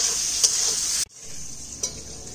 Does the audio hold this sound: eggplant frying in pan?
yes